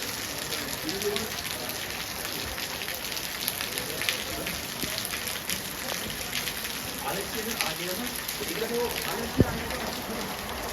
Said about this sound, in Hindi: देखिए कितना खतरनाक बारिश हो रही है इसमें और धुंध छाई हुई।